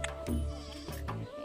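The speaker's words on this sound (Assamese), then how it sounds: "ইয়া ইমান সৰু সৰু ছাগলী মৰমে লাগি যায়" Small goats bleat at a village farmhouse, two or three close, wavering bleats in quick succession with no talk.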